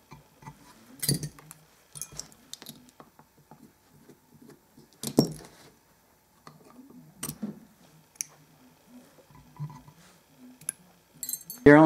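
Metal keys on the upper joint of a clarinet clink and tick as they are unscrewed and lifted off during disassembly: scattered small taps and jingles, close and sparse, with someone talking between them.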